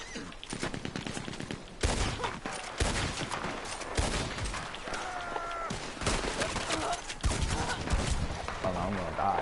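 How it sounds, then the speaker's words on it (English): Rapid bursts of Gatling gun fire in a Red Dead Online shootout, dense repeated shots crackling loudly throughout with brief pauses, other gunfire mixed in. "oh no, there's a Gatling gun."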